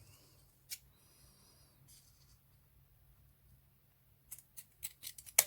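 Scissors snipping through ribbon while a hair bow is shaped, a single crisp cut early, then a quick run of sharp close snips near the end, with quiet room tone between.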